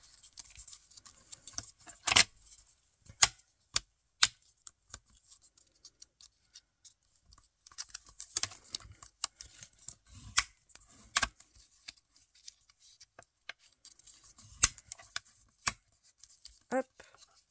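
Scissors snip paper while a DIY scrapbooking post-it holder is made, with sharp separate cuts and rustles spread irregularly over a quiet background, close to the listener and clear.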